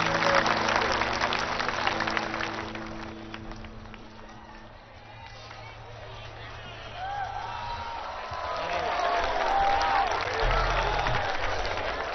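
An audience claps and cheers, loud at first, then dipping mid-way before swelling again with crowd babble. A low electrical hum sits underneath.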